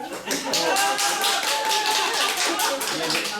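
A dense, steady patter of many hands clapping fills a council session hall during a village council meeting, loud and continuous throughout without a break.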